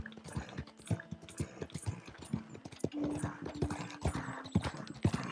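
Horse hooves clip-clop at a steady walking rhythm in the Red Dead Redemption 2 video game, moderately close, with a faint tonal hum in the background.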